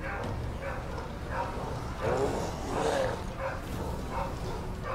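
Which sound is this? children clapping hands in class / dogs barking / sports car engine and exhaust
dogs barking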